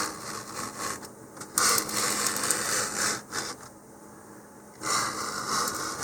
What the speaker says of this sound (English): I'm going to take some of my sandpaper here